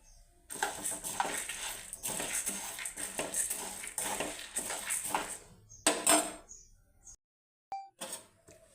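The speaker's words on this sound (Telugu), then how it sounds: "ధనియాలు వేస్తానండి." Coriander seeds poured into a dry pan for roasting, a rattling clatter of seeds hitting metal with scraping and clinks, close and fairly quiet, ending in a brief silence and a few last knocks.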